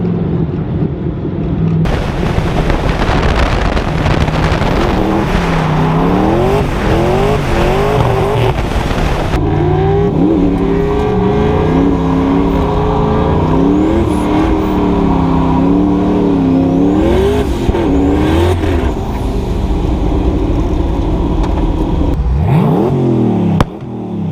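A Mitsubishi Evo accelerates hard, its engine loud and close, climbing repeatedly through the revs with gear changes and a tire squeal, sustained throughout.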